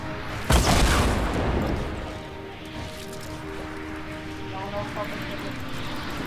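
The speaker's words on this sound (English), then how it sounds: "kailan ka ba titigil mag-grenade launcher" A grenade launcher in the video game Fortnite sets off a loud booming blast followed by a long rumbling tail, with a voice talking over it.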